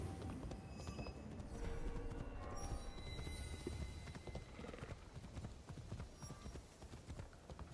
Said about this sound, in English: No, I'm just riding around on my horse,